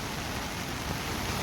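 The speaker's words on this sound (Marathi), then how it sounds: "पाऊस आला." Monsoon rain falls over paddy fields in the Konkan, a steady even hiss of rain on surfaces heard briefly and moderately loud, with no voices.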